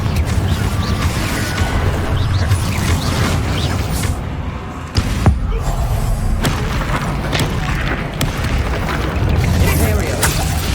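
In the Hogwarts Legacy game, Confringo blasting spells go off as repeated booming explosions with crashes and thuds, loud and dense, over combat effects and a shouting voice.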